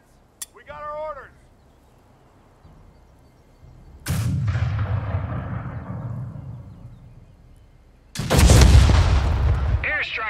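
Heavy artillery and airstrike explosions boom in the video game Company of Heroes 3: a short burst of combat voices, then two loud, deep blasts several seconds apart, each rumbling away slowly.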